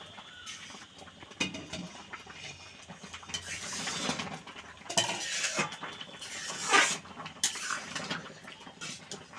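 A spoon stirs carrot halwa in a pot, giving close scraping and clinking against metal in irregular strokes, with a soft sizzle underneath and no talk.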